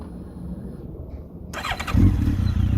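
A Honda CB1300 Super Four motorcycle engine cranks and fires up, settling into a loud, rumbling idle up close after a quiet start.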